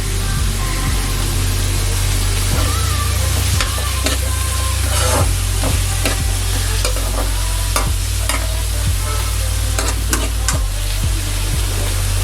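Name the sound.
onion mixture with curry leaves frying in a pan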